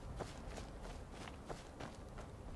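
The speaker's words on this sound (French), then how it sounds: "Et un autre bruit lorsqu'on marche sur les rochers." Footsteps crunch over rocky ground in the Skyrim video game, a steady walking rhythm of soft, close impacts about every third of a second.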